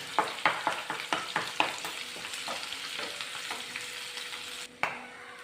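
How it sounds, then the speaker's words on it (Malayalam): Slit green chillies and curry leaves sauté in a pan, opening with a quick run of rhythmic spatula scrapes over a bright sizzle, then a calmer steady fry and one final clack; nobody speaks. "ഒരു മൂന്ന് പച്ചമുളക് കീറിയതും കൂടെ ചേർത്ത് കൊടുക്കണം ഒന്ന് വഴറ്റിയെടുക്കണം"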